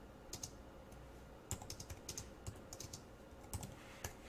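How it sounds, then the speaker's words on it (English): Quiet, close typing on a computer keyboard, a steady run of soft key clicks with occasional heavier strokes, like spacebar or enter presses, over faint room noise. "Now, as I'm typing this"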